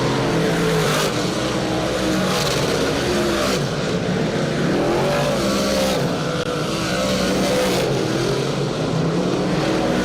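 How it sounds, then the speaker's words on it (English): Super DIRTcar Series race cars running hot laps at Weedsport Speedway, loud engines roaring and revving continuously as several cars sweep past in waves, with no talk. "Group number 3 of hot laps for the Super DIRTcar Series this evening."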